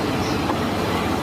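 A Japanese train running in Myanmar rumbles steadily along the rails, a continuous rolling clatter filling the space without any voices.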